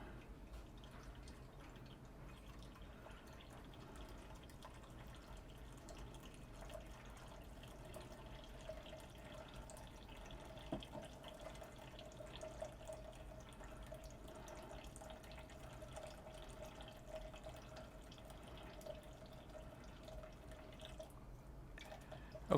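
Pot roast juice trickles from a fat separator into a pot in a kitchen, a faint, steady thin pour with light dripping, continuous and quiet throughout.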